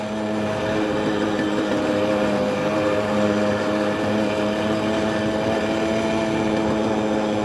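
Small moped engine running steadily while coasting downhill, a continuous droning hum with stable tones held at moderate loudness throughout, no voices over it.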